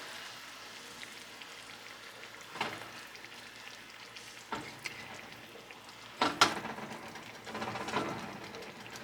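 Salmon simmering in a boiling honey, butter and garlic liquid gives a steady soft sizzle and bubbling crackle, with a few sharper spits and pops standing out near the middle and toward the end.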